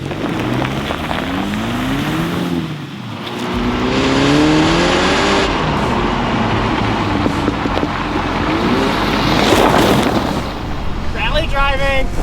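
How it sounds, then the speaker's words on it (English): A rally Mini drives up a mountain. Its engine revs rise and fall through gear changes, with road and wind noise, fairly loud and close throughout. "Rally driving!"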